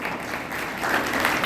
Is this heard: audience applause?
yes